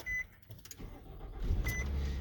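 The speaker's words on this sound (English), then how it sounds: "It starts the car and there's no security lock." A Nissan Rogue cranks and its engine starts after key programming, with short chime beeps, then a low rumble that swells and settles into a steady nearby idle.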